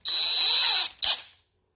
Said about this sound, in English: I'll put it on the drill.